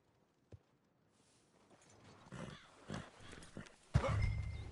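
A horse in the video game Red Dead Redemption 2 whinnies and snorts amid creaks and shuffling hoofbeats, with a loud burst near the end.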